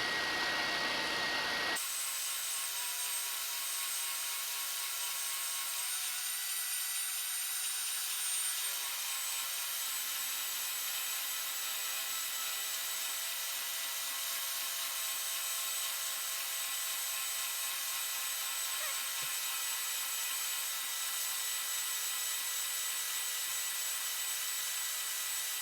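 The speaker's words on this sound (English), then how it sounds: "So it's always important to sand against the work." Sandpaper is worked over a wooden guitar headstock while shaping and profiling it, giving a steady, continuous hissing scrape that runs almost unbroken for the whole stretch, close and fairly loud with no talking.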